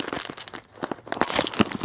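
A Pepperidge Farm Goldfish snack bag's freshness seal is torn open up close, a short burst of crinkling plastic and tearing crackles that grows louder and sharper toward the end.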